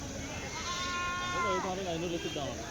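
At the Kadiri sheep and goat market, billy goats let out a wavering, drawn-out bleat at moderate distance, heard over a busy background of market murmur.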